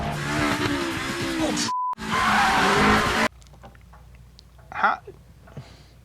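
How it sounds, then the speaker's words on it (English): In a Fast & Furious film scene, a loud roaring engine and screeching tires as a car skids and spins on the e-brake, cut off abruptly, followed by quieter tire squeals and engine noise. "pulls the e-brake, spins the car around, throws it in reverse"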